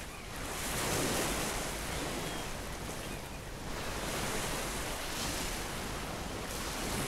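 Ocean waves washing onto a bright shore in Hypnagogia Boundless Dreams, a steady, soft roar of surf that swells and eases throughout.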